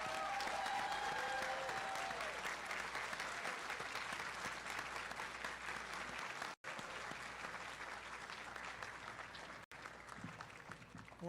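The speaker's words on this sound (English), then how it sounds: "let's give one big round of applause again." A graduation audience applauds in a long, dense, even wash of clapping that holds steady for about eleven seconds, with two abrupt brief dropouts and faint crowd murmur beneath.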